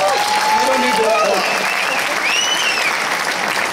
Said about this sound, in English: You don't really need to applaud that